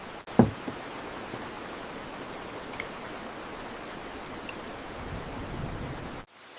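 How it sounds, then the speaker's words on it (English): Steady rain falls outside a cottage, a soft continuous hiss of drops on surfaces with a brief tap near the start, heard alone without speech. "the rain continues outside"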